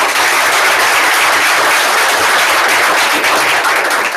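A sales meeting audience gives a round of applause, loud dense clapping filling the room evenly from start to finish with hardly any talk.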